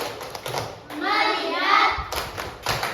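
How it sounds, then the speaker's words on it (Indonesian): In a classroom, children chant together in unison, with sharp rhythmic hand claps between phrases and a loud sustained group voice in the middle. "Tepuk fokus."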